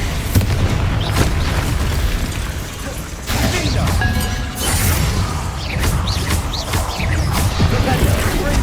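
Bombarda blasting spell going off in Hogwarts Legacy combat, a loud booming explosion with crashing debris amid continuous busy battle noise, with further impacts following.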